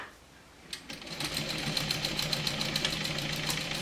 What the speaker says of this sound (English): So I'm just sewing it.